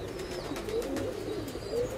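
Pigeons in a dovecote give a soft, steady cooing that hums low throughout, with a faint higher call now and then and no voices.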